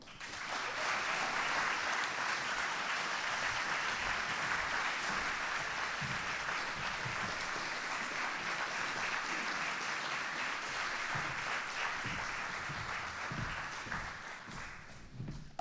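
Sustained audience applause for speaker Brianna Breach at a youth homelessness policy breakfast, a full, even roar of clapping from a sizeable crowd that carries on steadily before tapering off at the end.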